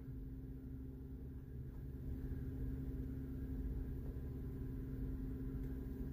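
Cars pulling off and driving away toward a station, a faint low rumble of engines holding steady at a distance with no voices over it.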